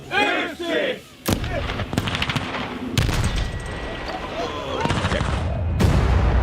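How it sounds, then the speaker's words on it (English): A Tesla car is blown up, heard as a sharp blast followed by crackling bangs and a roaring rumble, after a voice at the start and with excited crowd noise around it. "It was a legit explosion."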